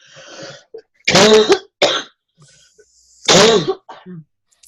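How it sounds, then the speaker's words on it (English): Two harsh, forceful coughs burst out close by, separated by short pauses, with a few smaller throaty sounds and breaths between them. "this cough kicked in on me"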